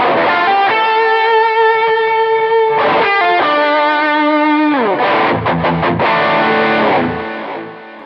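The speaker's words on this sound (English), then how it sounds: "we attack the power chords like this" Heavily distorted electric guitar power chords ring out loud and sustained, changing pitch a few times, then quick chugging strums before fading at the end.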